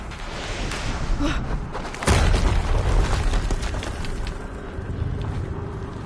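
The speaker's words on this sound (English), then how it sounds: "Another explosion." A heavy explosion in the video game Horizon Zero Dawn bursts loud and deep midway through, over a constant rumbling backdrop of combat noise that continues after the blast.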